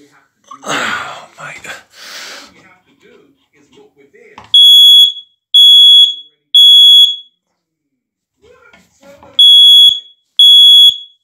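Someone speaks briefly, then a carbon monoxide alarm being tested gives three loud, shrill electronic beeps. After a pause it gives two more.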